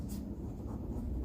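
Chalk scratches across a blackboard during a maths lesson, a faint, close scraping with soft strokes in a quiet room.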